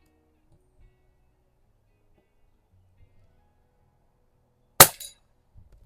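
A single sharp crack rings out from an Umarex NXG APX multishot air gun fired at an outdoor range, loud and abrupt against near silence, followed by a faint rattle.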